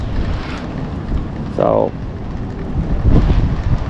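Wind buffets the microphone on a pier, a steady low rumble with gusts, while someone talks briefly.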